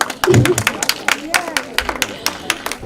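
A panel-discussion audience gives the arriving panelists sparse, uneven clapping: a handful of distinct claps scattered across a few seconds, none building into full applause.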